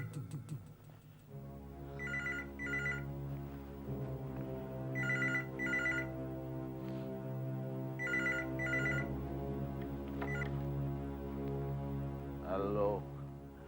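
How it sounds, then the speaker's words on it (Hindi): A telephone rings in repeated double bursts, three rings spaced a few seconds apart, over a steady low hum with some background voice. "लो, उसी का फोन होगा।"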